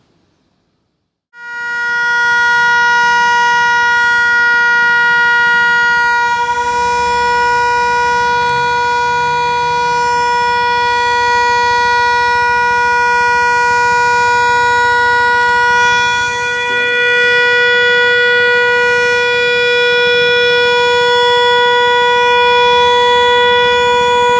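A commemorative siren at a Heroes' Day ceremony in Banjarmasin, Indonesia, sounding for 60 seconds: it starts after a brief silence and holds a constant, loud wailing tone without pause.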